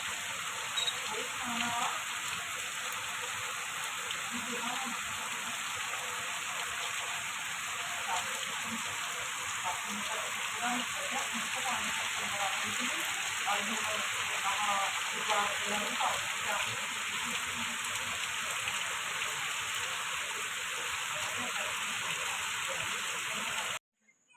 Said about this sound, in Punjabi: ਕਿਵੇਂ ਮੀਂਹ ਪੈਣ ਲੱਗਿਆ ਐ ਜ਼ੋਰਦਾਰ ਬਾਰਿਸ਼ ਹੋ ਰਹੀ ਹੈ ਜੀ